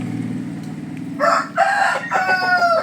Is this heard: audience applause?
no